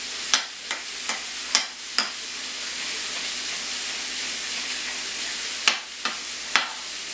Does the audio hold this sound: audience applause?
no